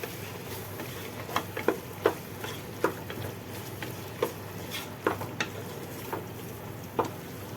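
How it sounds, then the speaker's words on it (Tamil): Mushroom biryani masala being sautéed on a low flame in a pan, with soft continuous sizzling under repeated light clicks and scrapes of a spoon stirring, regular and fairly close but quiet. "கொஞ்சம் போட்டு அதெல்லாம் சிம்மில் வச்சுக்கிட்டு நல்லா வதக்கி விட்டுருங்க."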